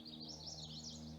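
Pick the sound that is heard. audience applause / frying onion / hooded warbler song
hooded warbler song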